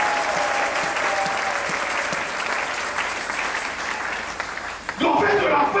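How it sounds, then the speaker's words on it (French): Church congregation applauding the women during a service, a sustained dense clapping from a crowd that fades before a louder burst at the end. "Est-ce qu'on peut acclamer les femmes quand même?"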